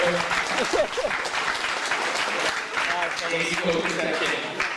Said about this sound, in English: please clap it up for these gentlemen because they work so hard